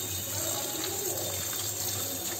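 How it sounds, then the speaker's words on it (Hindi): Hot water running over mushrooms being washed by hand in a home kitchen, a steady splashing flow like a tap, continuous and fairly close throughout. "इसको मैंने गर्म पानी से धो लिया, फिर और एक बार धो लेंगे"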